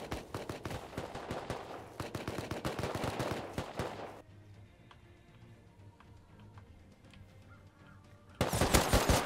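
Rapid bursts of automatic gunfire in the video game Rust crackle loudly, pause for a quieter stretch with faint scattered shots, then erupt again in a dense, intense barrage.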